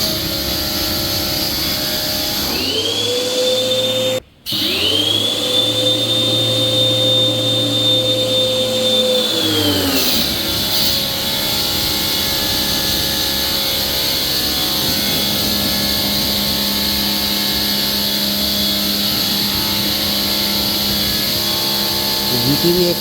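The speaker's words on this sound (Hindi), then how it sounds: "बॉश का क्लीनर है, तो बाइक वॉशर है." A Bosch pressure washer motor whines up while washing a bike, runs steadily for several seconds, then winds down, loud and close, followed by continued background noise.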